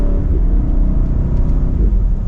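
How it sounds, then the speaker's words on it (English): BMW X7 M60i with a twin-turbo V8 on a test drive, a dense low engine rumble and road drone from inside the cabin, fairly loud and steady with no one talking. "From that twin turbo V8, you think it would be louder"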